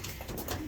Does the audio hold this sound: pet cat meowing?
no